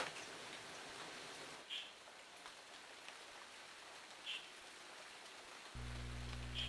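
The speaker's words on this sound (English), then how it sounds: "And the rain started once more." Steady typhoon rain hissing down, with a few brief brighter spatters and a low hum joining near the end.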